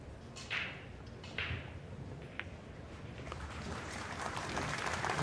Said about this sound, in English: Strickland applauding.